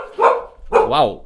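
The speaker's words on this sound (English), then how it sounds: "sorry for the barking" A pet dog barks twice indoors, sharp close yelps with a rising, whining tone on the second, while a man has just been speaking.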